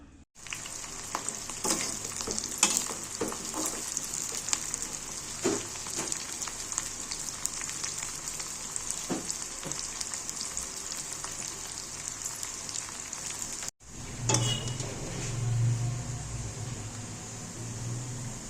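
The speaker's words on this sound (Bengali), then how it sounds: "কারি পাতা তেলে দিলে প্রচুর ফোটে।" Curry leaves sputter and crackle in hot oil in a pan, producing a dense, steady sizzle with scattered pops that stops abruptly, then resumes as a softer frying hiss.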